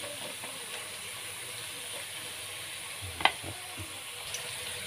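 Sweet potato (kamote) fries in oil with a soft, steady hiss and faint crackle, broken by one sharp click of a utensil against the pan; quiet and without talk.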